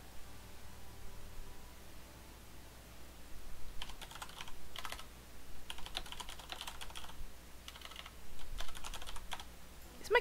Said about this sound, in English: Is my keyboard loud?